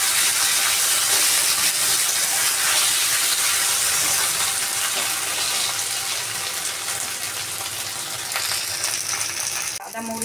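Ground ginger and fennel paste frying in hot oil, a loud dense continuous sizzle with soft rattling stirs, easing slightly toward the end with a brief clatter just before it stops.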